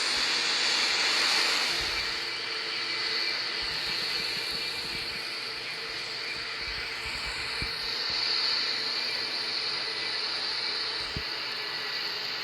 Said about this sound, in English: 787's coming in hot. Yup, definitely coming in hot.